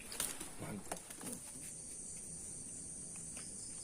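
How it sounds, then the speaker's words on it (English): Night insects such as crickets chirp among leaves in an outdoor setting after dark, forming a steady high-pitched drone, with a few soft rustles near the start. "Night insects answered each other among the leaves."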